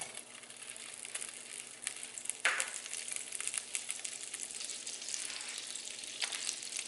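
Two tablespoons of butter melting in a frying pan used earlier for butter chicken: a faint, steady sizzle with a soft electrical hum beneath, one brief clink and occasional light crackles, no voices.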